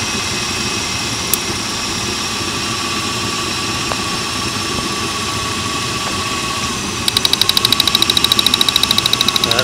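A car engine idles steadily during a cylinder drop test, with a spark plug wire pulled off the coil; a low even hum runs throughout, and a rapid, regular ticking joins near the end.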